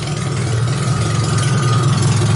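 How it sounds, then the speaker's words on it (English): A steady, loud drone of a running engine with a continuous hum and light rattle fills the air, the air ride compressor of a supercharged 2.5-liter MerCruiser-powered Briggs-body T-bucket running alongside it. "You can hear the compressor running in the back over here."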